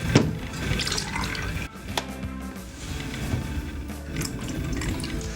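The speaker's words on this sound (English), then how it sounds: "Measure an exact shot of whiskey." Whiskey poured into a glass over three ice cubes, a steady close liquid trickle running for several seconds with small clinks.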